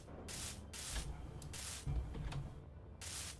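Welding tool in Space Engineers, a hissing, rasping grind in repeated bursts of roughly half a second with short gaps between them, fairly quiet and with no voices.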